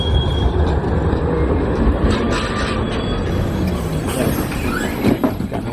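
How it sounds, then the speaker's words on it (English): An old open tram in Sofia, Bulgaria rumbles steadily along its rails nearby, with metallic wheel squeals and clatter rising toward the end, and no talking. "It's a tram."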